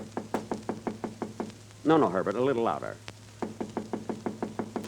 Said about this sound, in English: give us a knock on the door